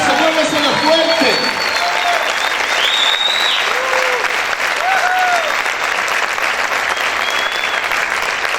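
Loud, sustained applause from a church congregation, dense clapping with shouts and voices rising over it at the start.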